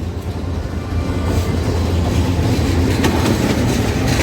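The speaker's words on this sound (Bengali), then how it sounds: "এই যে ট্রেন আসছে" A train arrives at Hasanpur railway station with a steady, loud rumble and clickety-clack of wheels on rails that fills the whole stretch, no voices over it.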